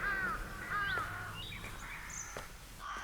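Crows in trees give two loud, close harsh caws in the first second, with fainter calls and clicks following against a quiet outdoor background.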